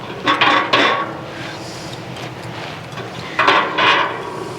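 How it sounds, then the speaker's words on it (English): A metal cooking rack is set into a Pit Barrel Cooker drum, making two bursts of clanking and rattling metal a few seconds apart, close and fairly loud. "put my cooking rack back in"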